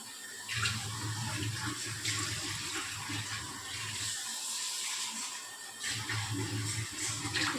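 Water poured into a cooking pan while making kofta, a steady splashing flow with a gentle hiss running throughout, close by and moderately quiet.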